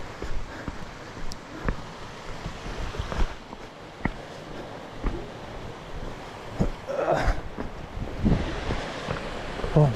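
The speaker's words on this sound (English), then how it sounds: "the river's actually going pretty good" Strong river current rushing beside a campsite at Poco do Gaviao in Chapada Diamantina, Brazil, a steady broadband wash of flowing water with some wind buffeting the microphone and a few faint knocks, continuous and fairly close.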